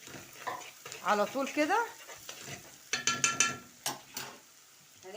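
Onion frying in a pan as it turns golden, a steady sizzle with stirring scrapes, while someone talks over it in Arabic at close range.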